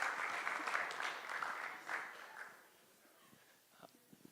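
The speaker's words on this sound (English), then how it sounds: "let's give a round of applause to Ruckus." An audience applauds at a finalists' presentation event, a dense burst of clapping that swells then thins out to scattered claps and fades within a few seconds.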